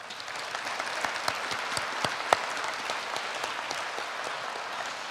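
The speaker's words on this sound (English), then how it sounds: "So I think that deserves a round of applause" Dense, sustained applause from a large audience at a community college commencement ceremony, an even wash of many clapping hands with a few sharper claps standing out.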